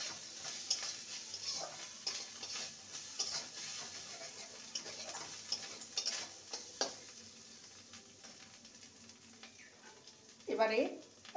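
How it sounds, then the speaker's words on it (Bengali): Fresh grated coconut stirred into cooked taro greens in a pan, faint sizzling with scraping spatula strokes and small clicks, quiet throughout, ending in a brief louder clatter. "নারকেল কোড়া দিয়ে ভালো করে নেড়ে নেব"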